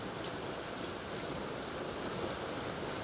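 A pot of water boils at an outdoor bushcraft tarp camp, giving a steady, dense bubbling rush that stays constant and fairly close throughout.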